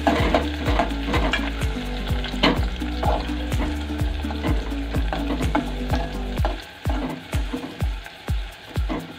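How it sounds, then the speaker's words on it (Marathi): Onion paste fries loudly in a pan for a prawn curry, a strong close sizzle with a low hum beneath and a regular series of stirring scrapes that grows more rhythmic toward the end, no talk. "आता कांदा चांगला फ्राय करून घ्यायचा आहे।"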